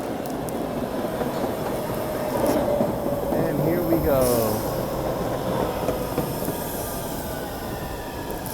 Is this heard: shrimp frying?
no